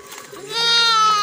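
A sick sheep that struggles to walk gives a single drawn-out, wavering bleat, close and loud, rising out of a quieter start.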